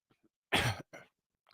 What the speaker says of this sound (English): excuse me as I clear my throat